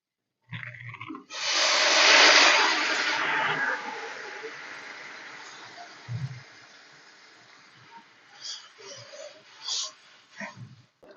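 Water comes to a boil in a pan of paneer curry masala with a steady rushing hiss that swells strongly near the start and then slowly fades, with soft voice and kitchen sounds later.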